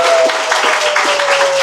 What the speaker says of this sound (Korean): 힘찬 박수로 저를 한번 응원해 주시겠습니까?